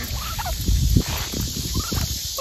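Turkeys gobble in short bursts, with rustling and scuffling movement close by and steady background noise.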